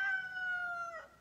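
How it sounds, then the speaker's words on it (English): A rooster crows once in the early morning at a Montana homestead, a single close, drawn-out call with a falling, strained ending, fairly faint and alone. "You can hear the rooster crowing."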